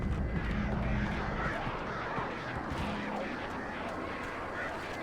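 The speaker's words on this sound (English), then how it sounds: "I hear you, you fucking birds." Crows caw in a video game: a couple of harsh calls rise over a thick, steady ambient rumble.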